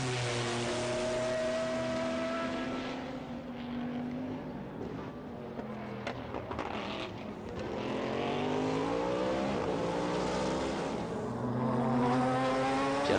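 A BMW race car engine at the 1998 Le Mans 24 Hours, a loud, sustained howl that rises and falls as it shifts through gears and passes, mixed with other cars nearby.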